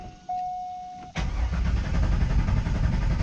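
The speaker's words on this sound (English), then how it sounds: "See, it cranks, but it's not going to turn over" A C5 Corvette engine cranks without firing: a starter chime tone plays briefly before the starter engages with a loud, steady churning rumble that continues to the end without catching.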